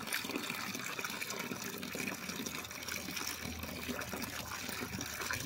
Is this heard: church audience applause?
no